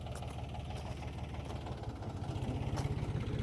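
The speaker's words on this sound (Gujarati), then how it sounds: "જો ટ્રેક્ટર વાળે છે," A tractor working in a cotton field runs with a steady, throbbing diesel chug, close and continuous with a rhythmic knocking pulse, no talk.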